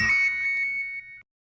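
A mobile phone rings indoors with a short electronic ringtone tone that sounds once and cuts off after about a second, clear and fairly close with no talk.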